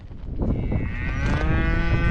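A cow gives one long, loud, close moo that rises and holds, with rustling farm noise underneath.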